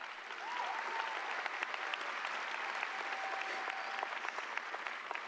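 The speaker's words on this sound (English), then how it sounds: "please give one more round of applause to our incredible admin and staff" A graduation audience at Rex Putnam High School applauds the admin and staff, with sustained, fairly distant clapping from a large crowd and no talking.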